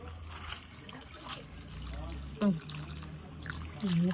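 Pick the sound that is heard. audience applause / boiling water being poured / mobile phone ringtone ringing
boiling water being poured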